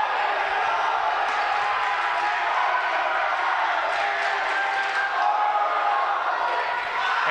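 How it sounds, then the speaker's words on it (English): A student section at a high school varsity boys basketball game roars in a continuous loud wash of cheering and shouting filling the gym, steady throughout without pause. "the crowd got to him there, as you can hear that crowd"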